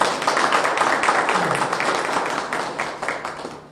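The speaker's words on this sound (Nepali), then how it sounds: "हामी उहाँलाई फेरि पनि एकचोटि ताली बजाएर धन्यवाद दिन्छौँ" A church congregation applauding to thank a speaker: dense, sustained clapping from many hands that fills the room, loud and close at first and then slowly thinning toward the end.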